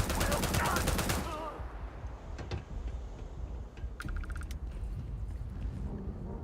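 Gunfire in the space game Starfield, a burst of rapid shots at the start followed by a few scattered cracks over continuous game ambience, with talk around it.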